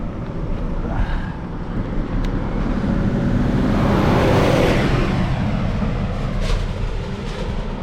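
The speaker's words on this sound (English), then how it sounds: "Oh, big ass truck." A big truck rolls past on a steep Welsh hill road, its rumble building to a loud, close peak midway and then fading as it moves off.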